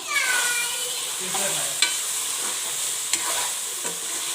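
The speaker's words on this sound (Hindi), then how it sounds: "अब मैं इसको मिक्स अप करूँगी" Beef kadai with coriander and green chillies sizzles in a pan while a spoon stirs it, a steady close frying hiss with a few sharp metal taps; a cat-like whine rises briefly at the start.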